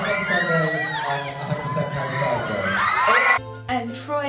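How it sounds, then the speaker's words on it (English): Excited crowd at YouTube FanFest Australia 2014 cheering, whooping and screaming loudly and continuously, with children's shrieks and yells mixed in; a steady loud hum sits under the last second. "Here's a little video of what the crowd was like."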